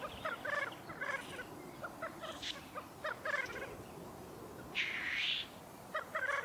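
Repeated bubbling, cooing black grouse calls during a courtship display, short bursts with a hissing rush midway, outdoors against a steady background; several birds calling near and far.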